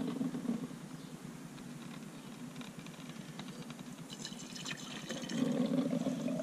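Lemon balm tea pours into a cup, a soft continuous liquid trickle that grows fuller and louder near the end, close and quiet with no talking.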